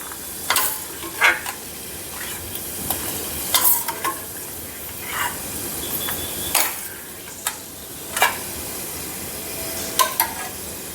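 Cashews, almonds and pistachios sauté in a pan, a steady sizzle broken by a dozen sharp scrapes of a stirring spoon against the metal, close and clear with no voices.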